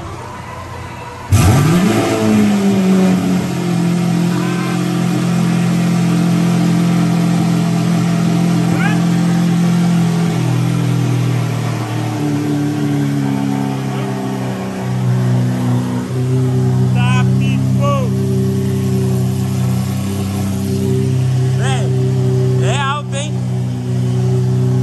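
A Lamborghini Aventador V12 starts with a sharp burst, then revs hard and holds a loud, rich engine roar close by, easing to a steady idle with further blips while people talk over it.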